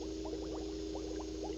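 Steady liquid bubbling like water at a low boil, with small gurgling pops rising over a constant low hum, quiet and continuous throughout.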